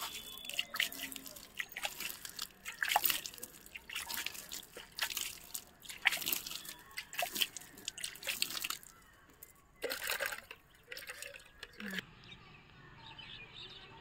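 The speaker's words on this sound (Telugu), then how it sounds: "వాటర్ చల్దామండి" Water is sprinkled over organic vegetable plants in a terrace garden, irregular splashes and drips near the microphone, while birds chirp in the background and a voice is briefly heard.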